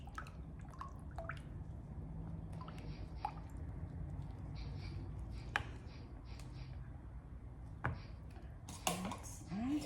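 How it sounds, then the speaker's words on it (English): A lavender cold process soap mixture being stirred by hand, very faint. Soft scraping and occasional utensil taps and drips rise and fall over a low background hum. "give that a bit of a stir"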